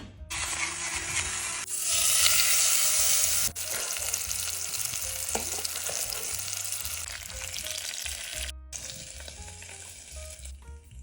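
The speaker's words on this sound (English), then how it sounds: "cooking a fresh steak dinner in a bed with fresh white sheets" A steak dinner cooking in a pot set on a bed with white sheets, a loud steady frying sizzle with stirring, with a musical tone underneath and brief dropouts.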